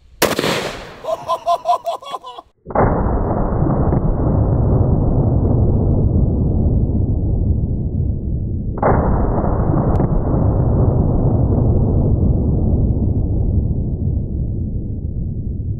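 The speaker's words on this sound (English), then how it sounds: "now let's go ahead and actually try out the Super Shotgun" A Super Shotgun firing 10-gauge Demon buckshot, two huge booming blasts several seconds apart, each followed by a long rumbling decay, very loud and close after a brief rattling lead-in.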